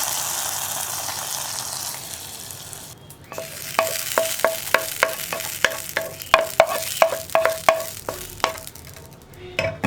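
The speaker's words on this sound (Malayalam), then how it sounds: "ഇനി നമുക്ക് നമ്മുടെ വറവ് സാമ്പാറിലേക്ക് ചേർക്കാം." Hot tempering is tipped into a pot of Kerala sambar: a hiss of frying starts partway in, followed by a run of rhythmic metallic taps and stirring that gets louder toward the end, with no talking.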